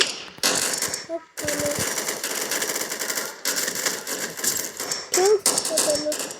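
Bursts of G3 rifle gunfire in a video game ring out as rapid, sharp cracks in uneven clusters with short pauses between, while a person talks over the shooting.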